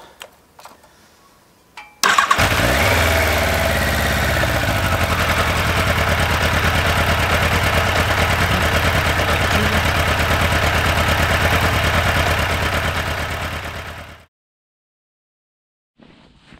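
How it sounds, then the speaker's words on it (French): An old motorcycle engine, warm from running, sputters to life and settles into a steady, loud idle that runs for about twelve seconds before cutting off abruptly to silence. "je veux faire tourner la moto pour qu'elle consomme tout ce qui reste dans le carburateur"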